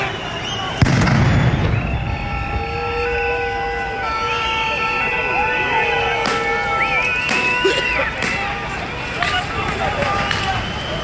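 Police firing projectiles at a Gilets jaunes street protest in Paris in November 2019, a sharp nearby blast followed by distant pops and bursts over continuous crowd noise, whistles and sirens, with people talking throughout.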